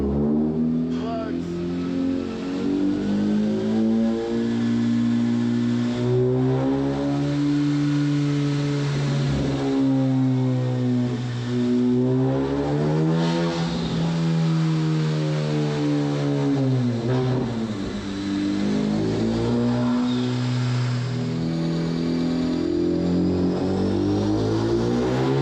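A 560-horsepower Honda Civic Type R FK8 runs a pull on a dyno, its engine note climbing and sweeping in pitch as it revs hard and loud and continuous, with brief dips between rising passes.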